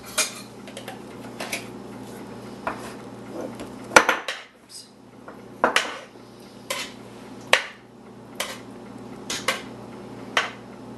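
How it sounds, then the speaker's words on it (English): A spoon stirs a Creole-seasoned mix with added pepper in a pot, giving sharp metallic clinks and scrapes in an irregular rhythm, close and fairly quiet over a low steady hum. "Al's going to stir for us"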